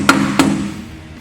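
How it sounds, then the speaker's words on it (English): Two sharp metallic hammer strikes tapping a weight onto a wheel mounted on an Eagle EB-1070 wheel balancer, close and distinct, spaced about a third of a second apart with a brief ringing decay. "put the wheel into position, and hammer the weight at the 12 o'clock position"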